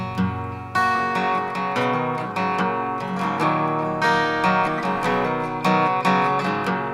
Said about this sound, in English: we could dial in a plugin like this and go for more of a lo-fi sound